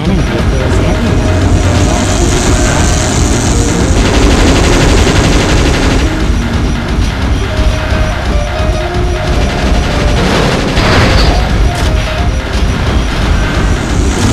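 Heavy, continuous bursts of cannon fire in the video game Shadow the Hedgehog roar loudly and densely, with booming blasts layered over a chaotic battle din.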